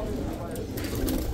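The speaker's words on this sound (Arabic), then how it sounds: "هاي شوف الطيور حمامي بخاري على اسود على احمر جميع انواع الزواج انواع الحمام" Pigeons coo at an outdoor bird market in Baghdad, low soft calls repeating under a busy murmur of crowd noise and nearby voices.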